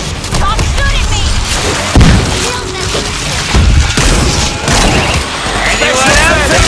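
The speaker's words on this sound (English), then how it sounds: "Frag grenade!" A frag grenade goes off in the zombie shooter World War Z, a heavy boom among other thuds and gunfire while voices shout nearby.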